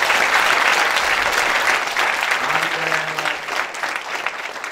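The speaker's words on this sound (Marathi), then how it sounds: "त्यांच्यासाठी आपण जोरात टाळ्या वाजवू" A college audience of students applauds loudly and continuously, a dense wash of clapping that fades slightly toward the end.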